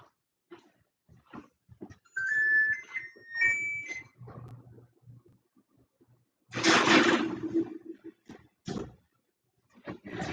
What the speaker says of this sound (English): I'm going to set my timer for 10 minutes